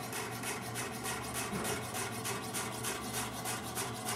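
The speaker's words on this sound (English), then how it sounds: "You turn it one last time and just cut it into little pieces." A kitchen knife chops Swiss chard into small pieces on a cutting board, a quick, steady run of close, dry taps and scrapes that never pauses.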